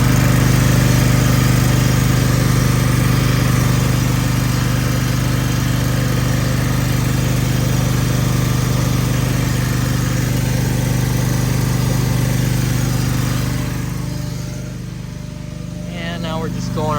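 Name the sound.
reel mower being backlapped with 120 grit compound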